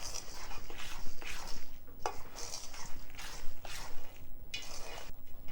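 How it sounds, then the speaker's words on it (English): Vegan cookie dough for Halloween monster cookies being stirred in a bowl, a run of repeated scraping, squishing strokes at close range with soft clinks of the utensil against the bowl, and no voices. "now you're going to mix everything together until it's well incorporated"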